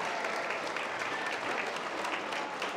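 An award show audience breaks into applause, a dense, even wash of clapping lasting a few seconds with no talk over it.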